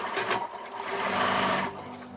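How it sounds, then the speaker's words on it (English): Sewing machine stitching a seam on a tote bag, a fast whirring run that swells in the middle and eases off toward the end, close and clear with no talking. "Back stitch and forward stitch when you start to secure."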